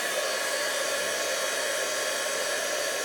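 A heat tool melts white embossing powder, blowing with a loud, steady, close whooshing hiss that runs unbroken throughout with no talking.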